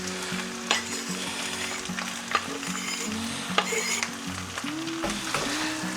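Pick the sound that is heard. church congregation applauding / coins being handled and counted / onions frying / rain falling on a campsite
onions frying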